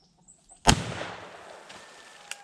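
A single sharp rifle shot from an 1892 Winchester lever-action chambered in 25-20 or 32-20 WCF, loud and close, with a short ringing decay and a faint click afterward, no talk.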